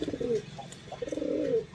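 Pigeons at a Vellore pigeon sale coo in two clear low rolling phrases with a short pause between them, close and moderately loud, with no talking over them.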